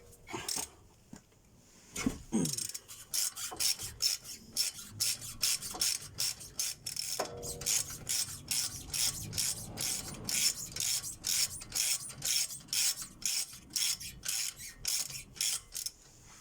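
Brake bolts being unscrewed on a BMW E60 during a brake disc and pad change, heard as fast, repeated metallic ratcheting clicks. The clicks come in quick bursts after a few louder knocks near the start, with no voices.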